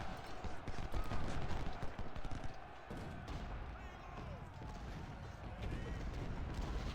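Musket and cannon fire from Civil War units in Ultimate General: Civil War, a dense, continuous crackle of volleys and booms rolling across the whole stretch at steady loudness.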